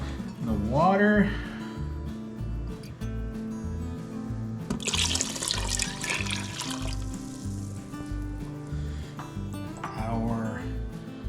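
Water pours into a crock pot of pinto beans with bacon fat and onion, a splashing trickle building midway, set against background music and a brief voice.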